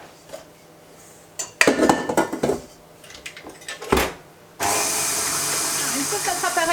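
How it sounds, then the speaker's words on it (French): Philadelphia cream cheese and sugar being whisked together in a bowl for apple caramel cheesecake bars, with scattered clinks and scraping giving way to a loud, steady, close whirring whisk over the last couple of seconds. "on mélange déjà au fouet le Philadelphia et le sucre jusqu'à ce qu'il devienne crémeux"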